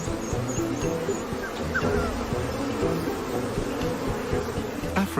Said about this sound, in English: A swarm of angry bees isn't the best lullaby for a tired wild dog.